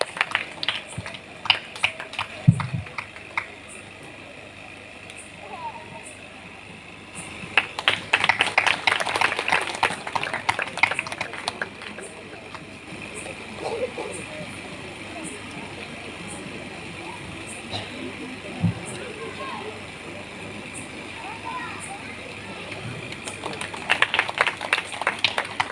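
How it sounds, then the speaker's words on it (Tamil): Applause from a congregation for the choir at a special Tamil church evening service, bursts of clapping rising and fading between stretches of quieter room noise and murmuring. "அவர்களுக்கு கைத்தட்டி பாராட்டுகளை வாழ்த்துக்களை தெரிவித்துக் கொள்வோம்"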